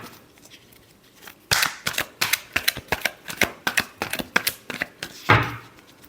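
Tarot cards are shuffled with quick, crisp riffling snaps, a dense run of sharp clicks over about four seconds that ends in a final, louder flutter.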